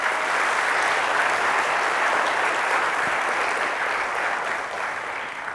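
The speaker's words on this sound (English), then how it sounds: "So if you give a round of applause to people in our finance." A room of people at a community college gathering applauds the finance staff, a dense, steady round of clapping that holds evenly for several seconds before tapering slightly.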